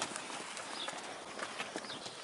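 Cows run across a farm field on France's Opal Coast, their irregular soft hoof thuds scattered through a constant wind-like rush, with no voices.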